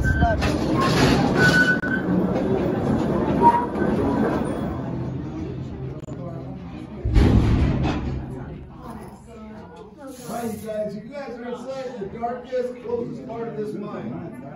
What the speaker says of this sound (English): This train gets to rocking and rolling a little bit